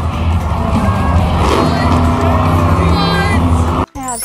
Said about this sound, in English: You wanna listen to some monster truck engines roar?